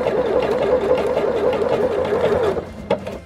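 An Elna 550 sewing machine stitches a heart appliqué onto a fabric book cover with a steady, loud, close motor whir that runs without a break, then eases briefly near the end.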